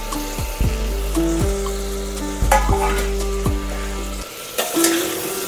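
Peas, cauliflower and potatoes sautéed in roasted spice masala, with repeated spoon scrapes and knocks against the pan over a steady close sizzle.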